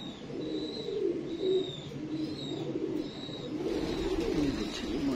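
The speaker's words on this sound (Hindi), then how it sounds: "बड़ा अच्छा कबूतर है" A green Chinese pigeon coos softly in a repeated rhythmic series of low murmuring calls, close by, with a faint chirp from another bird and a slight rise in background noise near the end.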